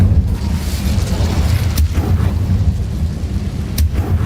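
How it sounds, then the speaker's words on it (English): Hogwarts Legacy's Incendio fire spell booms as a dense, low rumbling roar, broken by two sharp crackling bursts about two seconds apart, loud and sustained. "Incendio."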